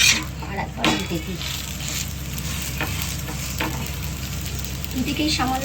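A pizza base fries in a hot pan, giving a continuous close sizzle and crackle with occasional faint scrapes as it is moved about.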